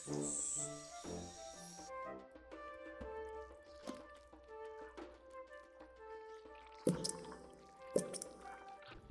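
Bush crickets chirp in short repeated bursts on a night scene in Empires of the Undergrowth, joined by sparse plinks, soft drips and squishy ambient game sounds, fairly quiet and with no voices.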